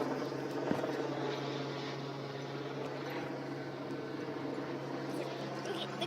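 A steady mechanical drone hangs in the air, a helicopter passing overhead during a hailstorm, continuous and moderately loud against outdoor noise.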